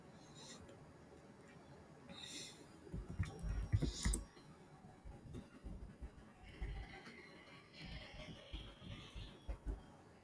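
Keys click in short, irregular bursts on a computer keyboard while text is entered, fairly close and moderately loud, with a quiet gap in between.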